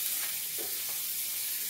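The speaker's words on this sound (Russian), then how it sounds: "На этой же сковороде, где баклажаны жарила, масло сливочное, и сюда грибочки" Mushrooms sizzle in butter in a home kitchen pan that was just used for frying eggplant, a steady close bright crackle with a few soft stirring knocks.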